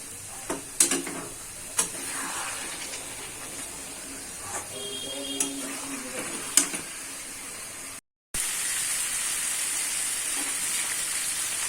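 Pre-fried chicken pieces going into a hot pan for a coriander chicken dish: a soft hiss with scattered light clinks, a brief cut, then a louder, steady, close sizzle.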